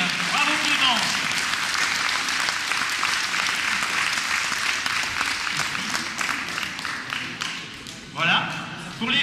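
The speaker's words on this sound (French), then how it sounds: "On peut l'applaudir." Spectators at a youth running race clap for the winner, a sustained, even patter of many hands lasting several seconds, with a voice speaking over it near the start and again near the end.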